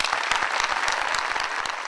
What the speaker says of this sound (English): I would like to recognize Chief Demings again with a round of applause.